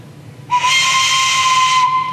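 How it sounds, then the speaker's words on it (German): A large organ pipe about 1.4 metres long is blown by mouth, giving one loud, steady, breathy whistle like a train or steam whistle that starts abruptly and holds unbroken for over a second and a half. "Das klingt schon fast wie eine echte Orgel."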